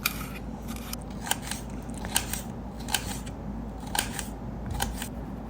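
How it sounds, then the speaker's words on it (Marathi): A knife finely chops capsicum on a cutting board for avocado toast, giving sparse, crisp cuts at an uneven pace over quiet room tone. "शिमला मिरचीला सुद्धा बारीक बारीक कट करून घेऊया."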